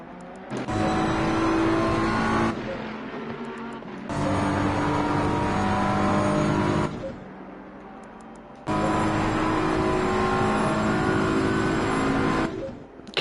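Race car engines roar in the racing game ACC at Spa, as three long bursts of loud, steady high-revving engine noise with short quieter gaps between them.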